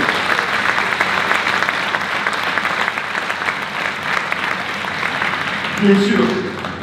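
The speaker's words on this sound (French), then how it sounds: "il faut les encourager, les applaudir, des jeunes élèves sapeurs-pompiers" An audience at a New Year's greetings ceremony applauds young firefighter cadets, sustained even clapping from a sizable crowd that carries on for several seconds with faint voices underneath.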